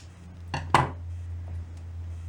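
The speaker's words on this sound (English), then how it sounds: "go ahead and cut the old yarn" Scissors snip through crochet yarn while a baby blanket is being worked. Two quick, sharp snips come close together near the start, then only quiet room background follows.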